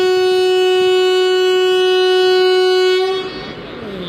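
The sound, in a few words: local train horn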